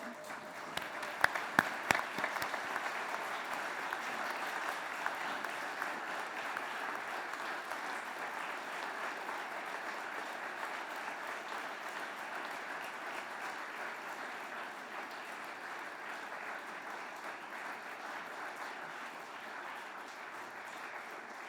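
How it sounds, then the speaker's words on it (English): An assembled audience stands and gives guests a sustained, rousing round of applause, with a few sharp individual claps at the start before settling into an even, continuous roar of clapping heard from some distance. "give them a really rousing applause"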